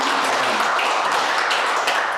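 Church congregation applauding during a worship service, a steady, dense wash of clapping from many people, heard alone and continuing evenly throughout.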